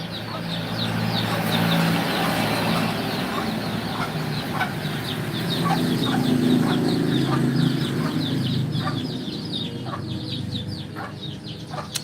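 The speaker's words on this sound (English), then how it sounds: "Don't want my chickens inside the house." Chickens cluck and a rooster calls near a house in the Philippines during a morning outdoors, the bird sounds repeating steadily over a constant low hum of background noise.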